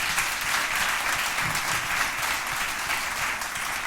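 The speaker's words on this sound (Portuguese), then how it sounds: "Agora aplauda Ele." Congregation applauding during a church service, dense steady clapping from many hands filling the room at an even level throughout, with no voices standing out.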